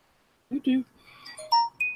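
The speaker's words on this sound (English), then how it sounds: "Uh-oh, my phone's blowing up." Several short electronic notification tones ring out from a phone in quick succession, bright chime-like beeps rising in pitch, following a brief burst of low voice at the start.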